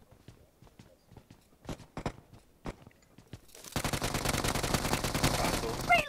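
PUBG Mobile gunfire: scattered sharp clicks and single shots lead into a long, loud burst of rapid automatic fire that hammers on steadily to the end.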